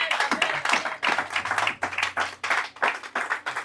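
A church congregation applauds and claps in praise during a French-language worship service, dense steady applause with rhythmic clap bursts carrying on without a pause, fairly close and loud.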